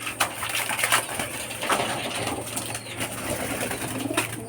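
Racing pigeons being readied for a derby coo softly and flap their wings overhead, with scattered wingbeats and calls over a steady low hum throughout.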